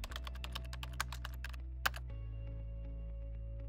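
Keys clatter in quick bursts as a command is typed on a computer keyboard, with a brief louder keystroke near the end over a steady low hum.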